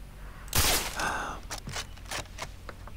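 A single sharp gunshot in Far Cry 3, loud and close, ringing briefly, followed by fainter scattered impacts and soft game noises, without speech.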